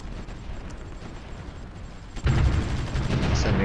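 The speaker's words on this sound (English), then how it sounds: "Well, the artillery is still pounding it." Artillery fire pounds a target in the strategy game Supreme Ruler Ultimate, a low rumbling bombardment that swells into a louder, denser barrage of booms partway through, with no voices.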